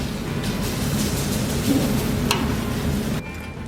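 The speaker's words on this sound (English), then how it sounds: "He then takes chilies and adds it to the grill." Chilies sizzling on a flat hot grill at a Tijuana street food stall, a steady loud crackling hiss with faint clatter, easing off near the end.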